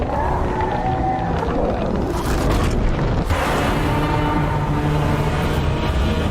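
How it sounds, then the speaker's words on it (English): Godzilla's atomic breath fired down Ghidorah's neck in a monster movie, a loud sustained roaring blast with deep rumbling and layered monster bellows, swelling into a heavier burst midway and continuing without break. "just firing his atomic breath down Ghidorah's neck isn't going to permanently kill him"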